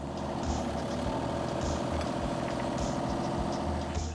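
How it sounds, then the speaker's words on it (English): An excavator runs at a steady idle-like drone while driving its track forward, a continuous low rumble with faint clanks and squeaks over it, moderately close and without talk. "Now what I'll do is just drive the track forward."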